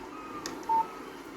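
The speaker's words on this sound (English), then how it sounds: "Text message from Barry" A short electronic alert tone from a phone in Alan Wake Remastered, a single clean beep heard once over a low ambient game background.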